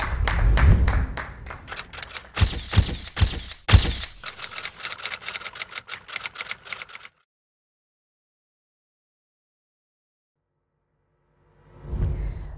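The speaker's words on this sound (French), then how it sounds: "on l'applaudit s'il vous plaît" A studio audience applauds a guest with scattered, irregular claps and a few loud slaps, fading out midway, then silence before a brief low rumble returns.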